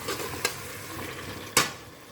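Mint and coriander leaves sautéing in a pan for chicken biryani give a soft, faint sizzle, broken by two brief scrapes of a spoon stirring, with no talk.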